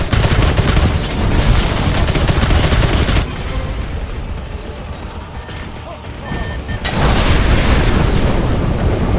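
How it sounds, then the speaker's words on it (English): Loud, rumbling blasts and crackling bursts of a robot exploding in the video game Warlander, a heavy roar easing mid-way before surging again. "the robot's explosion still destroyed our gate"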